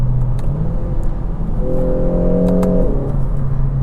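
A 2023 Kia Forte GT2 with a dual-clutch gearbox accelerates under paddle shifts, its engine droning loud and close, with a rising rev tone that holds, then drops away at a quick gear change.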